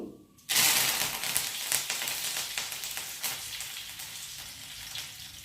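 Mustard seeds and curry leaves hit hot frying oil with a sudden loud sizzle that stays steady and crackling, fading slightly as it goes on.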